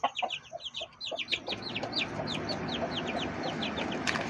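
Backyard chickens and a rooster cluck in a quick run of close, repeated calls over a soft outdoor background.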